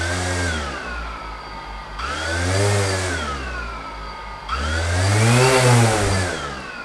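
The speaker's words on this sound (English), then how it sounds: "So you can hear the sound of the motors now." The motors of a DJI Phantom drone, fitted with propellers and held down by scuba weights, whir nearby in three rising-and-falling swells, each louder and higher than the last.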